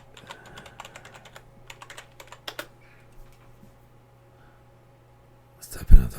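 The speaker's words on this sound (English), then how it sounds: "Let's type in Antarctica, see what comes up." Someone taps out a search on a computer keyboard in quick, uneven bursts of clicks, close and fairly clear, that trail off into quiet. A louder clunk sounds right at the end.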